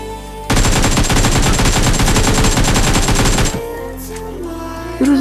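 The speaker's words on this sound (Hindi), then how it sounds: "ओ भाई फिर गोलियों की आवाज़ आने लगी" Rapid automatic gunfire in the PUBG Mobile video game, a dense burst of shots lasting about three seconds, followed by quieter game sounds.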